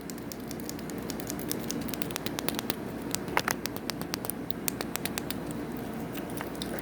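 Sharp little clicks from the switches on a fidget cube, an irregular patter of close, crisp taps pressed one after another with no talking.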